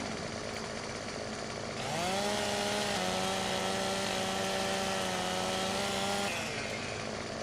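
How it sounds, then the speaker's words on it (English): A mower in the Farming Simulator 17 video game cutting down a palm makes a steady, loud mechanical drone. It swells and rises in pitch about two seconds in, holds as a sustained whine, then drops back to a lower engine hum. "I can make maybe a pass or two here with a mower. Go ahead and cut this."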